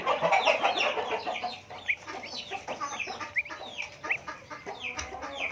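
Turkey chicks hatching, with soft chirps and peeps from the hatchlings and faint tapping as one pecks through its eggshell, close and fairly quiet, with no talk.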